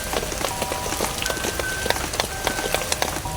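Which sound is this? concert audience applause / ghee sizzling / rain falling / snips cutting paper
rain falling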